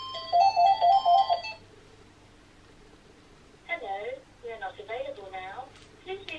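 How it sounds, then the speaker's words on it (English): A telephone rings in a rapid electronic trill of several short bursts in the first second and a half, followed by quiet, then a recorded answering-machine voice speaking. "Izzy, answer the phone."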